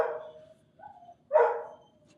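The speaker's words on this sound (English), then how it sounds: "this dog's going off" A dog barks twice nearby, a short bark followed after a pause by a louder, longer one, with a faint quieter yelp between them, against a quiet background with no talking.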